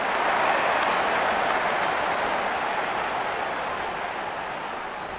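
A stadium crowd in the Real Cricket 24 video game claps and cheers in a broad, steady roar that fades slightly over a few seconds, with no voices on top.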